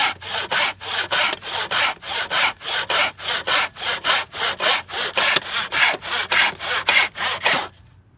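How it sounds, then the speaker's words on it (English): A hand rip saw cuts along the grain of a wooden 2x3 board in about sixteen quick, even back-and-forth strokes. The rasping is close and steady and stops suddenly at the end. "this is a rip saw. This is made for ripping with the grain of wood."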